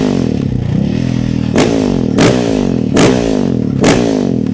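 A KTM supermoto motorcycle engine idles with a loud, close burble, then is revved sharply four times in a regular rhythm, each rev rising and falling back to idle.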